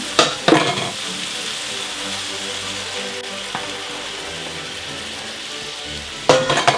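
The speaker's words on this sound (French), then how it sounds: "La demi-glace, on va la faire réduire pour qu'elle devienne une glace de viande." Demi-glace reducing in a pan for a cognac steak sauce gives a steady close frying sizzle, with sharp clinks of a spoon or utensil against the pan at the start and again at the end.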